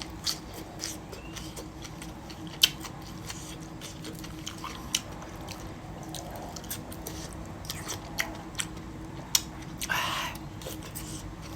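Crisp, crunchy chewing of fresh water spinach close to the ear, eaten with pork noodle soup, with irregular bites and soft squishy mastication over a quiet background.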